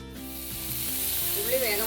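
Mustard seeds, dried red chilies and curry leaves crackle in hot oil in a pan for onion tamarind curry, a soft, continuous sizzle that swells slightly toward the end.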